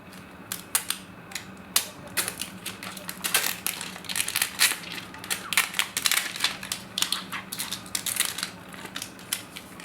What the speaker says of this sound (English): let's go ahead and undress the Galaxy S5, which is wrapped in plastic